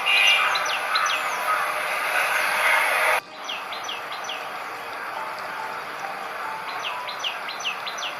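Small prinia birds chirp at a nest in the wild while chicks are fed, a steady series of short high tweets over a constant hiss of background noise.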